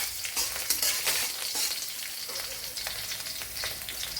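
Chopped green chilli with urad and chana dal frying in hot oil for Kerala-style idli uppumavu, a steady close sizzle with scattered crackles and stirring scrapes, no voices.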